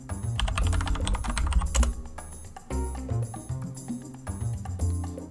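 Someone types an administrative password on a computer keyboard to open the Timeshift backup tool in Linux Mint 20: a close run of quick key taps, a brief pause, then more clicks.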